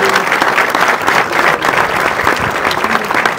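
Steady, loud audience applause fills an environmental certificate presentation ceremony at an industrial plant, sustained dense clapping throughout with a faint crowd murmur underneath.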